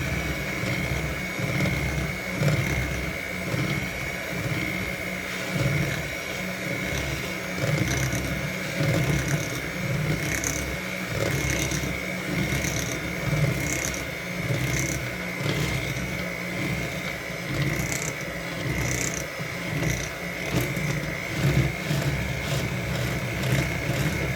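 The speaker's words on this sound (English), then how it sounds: "When you want to make sure your mixer's set to low so it doesn't go all over." An electric mixer running on low speed through pumpkin cookie dough, giving a steady mechanical whir with a faint rhythmic ratcheting churn that holds at an even level throughout, with no voices.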